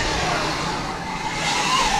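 An RC car running on a 3S battery pack drives outside, a quiet, steady hiss of motor and tyre noise with a thin electric whine riding through it and no voices.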